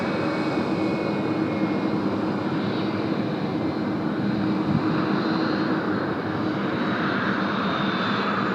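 A heavy Qantas airliner landing at Sydney Airport sends a constant, moderately loud jet roar with a thin high whine layered on top, unbroken across the whole stretch.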